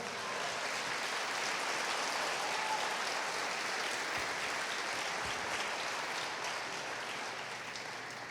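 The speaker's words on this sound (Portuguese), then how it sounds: "Quer aplaudir ao Senhor?" A church congregation applauds, a steady, even roar of many hands sustained throughout at moderate distance, dense enough to blur into a rain-like wash.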